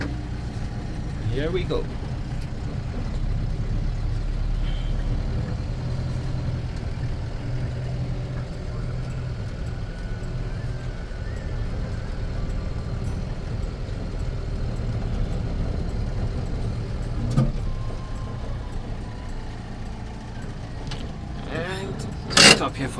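A Roxor utility vehicle engine running as it drives off while still warming up: a low, steady engine rumble with mechanical rattles and a few sharp knocks, with brief speech over it.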